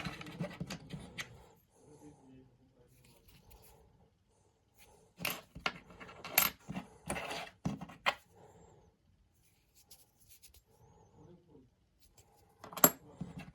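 Old tsarist-era coins being handled, with scattered light metallic clinks and taps in short bursts separated by quiet gaps, close and fairly soft.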